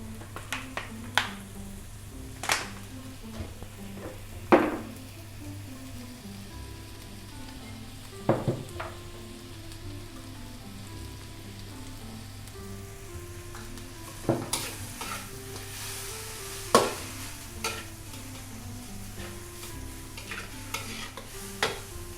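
Kwetiau goreng flat rice noodles frying in a wok at a restaurant, with steady close sizzling and sharp scraping spatula strokes against the pan at irregular intervals, no talk.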